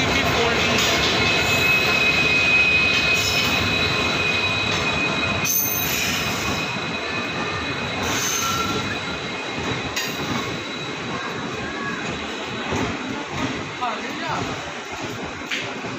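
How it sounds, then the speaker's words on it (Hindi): A passenger train bound for Izzatnagar arrives behind a WDP 4D diesel locomotive, with loud continuous rumbling, clanking and high wheel squeal throughout, with voices talking in the background. "तो चलिए देख लेते हैं ट्रेन का अराइवल। इज्जत नगर WDP 4D।"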